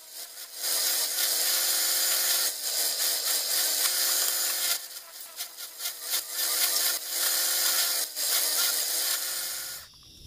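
A power drill bores through wood for a DIY lantern vise, a loud steady whining grind lasting almost ten seconds with brief dips in pitch as the bit bites, then stopping abruptly.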